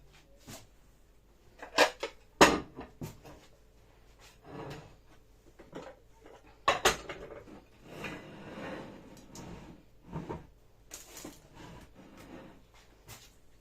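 Pieces of a tableware service being handled and set down, giving scattered clinks and knocks of varying loudness with gaps between them, close by and without talk.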